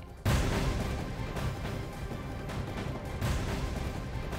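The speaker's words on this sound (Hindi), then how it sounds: "देखिए किस तरह से जोरदार धमाका" A loud bomb blast in Delhi bursts out suddenly, then rolls into a sustained roaring rumble that surges again briefly toward the end.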